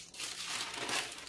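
Baking parchment paper is crumpled and crinkled up close in a kitchen while preparing pastry, a brief continuous rustling burst.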